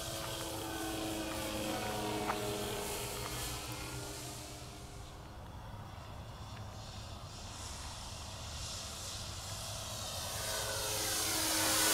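An E-Flite Beaver 25e electric RC airplane on its maiden flight, its motor a steady droning whine that shifts in pitch as it passes, swelling louder toward the end, with no talk.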